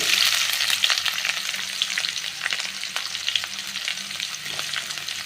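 Onions, cumin and curry leaves frying in oil for a tondekai palya, a loud, bright sizzle with light crackling pops and faint stirring, steady throughout.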